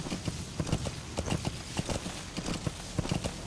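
Steady horse hooves clip-clop in a quick, even rhythm in the video game Metal Gear Solid V: The Phantom Pain, close and fairly loud, with no one talking.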